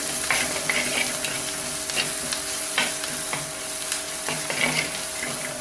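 Spice powders sizzle steadily in hot oil while being stirred for a green moong kulambu, with close, continuous frying hiss and repeated scrapes of a spoon against the pan. No one speaks.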